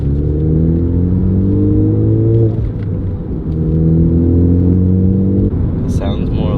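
Close, loud Ford Focus ST exhaust rumble with a low droning growl that rises and dips as the engine is revved, steady throughout.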